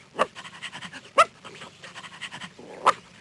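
Bumpy Dog from the Noddy: The Magic of Toytown CD-ROM game pants in quick rhythmic huffs, close and clear, with a few sharp yelp-like breaths standing out over about three seconds.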